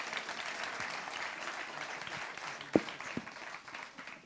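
Students at an award ceremony applaud trophy winners, an even spread of clapping from a sizable room with a single sharper knock near the end.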